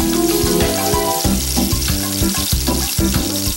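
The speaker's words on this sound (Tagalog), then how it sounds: "Tsaka ito ay prito sa cooking oil." Fish balls sizzle and crackle steadily in hot cooking oil at a Filipino street food stall, a loud, continuous frying hiss with bubbling pops throughout and no speech.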